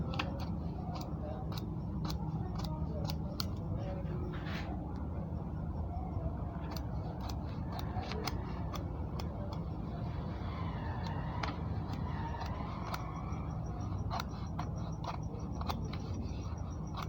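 Suit vent fabric being cut with scissors: a run of faint, sharp snips and ticks recurring through a quiet room, close by.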